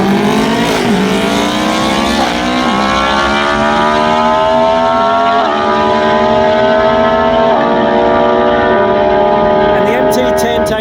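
Two Yamaha motorcycles, an MT10 and an MT9, race side by side on a drag strip with loud, high-pitched engine roars climbing through repeated gear shifts. A commentator's voice carries over the engines.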